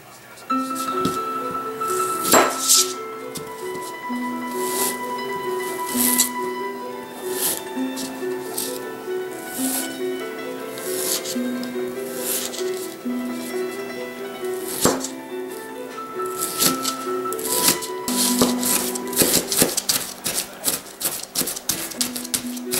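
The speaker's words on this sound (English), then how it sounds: "you want to chop these bad boys up very, very finely" A knife chops ingredients very finely on a board, giving quick rhythmic taps that run continuously over steady background tones.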